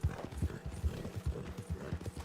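Hooves of a Turkoman horse clip-clop in a steady, fairly close rhythm in Red Dead Online, with no talking over them.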